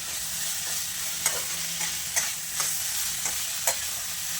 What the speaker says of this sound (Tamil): இது பாருங்கள் அவ்வளோதான் இந்தளவு வதங்கினா போதும்